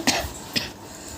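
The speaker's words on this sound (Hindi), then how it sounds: "और मोरो खांसी है अभी ठीक नहीं हुए हैं" A person still recovering from an illness gives two short, faint coughs about half a second apart in a quiet room.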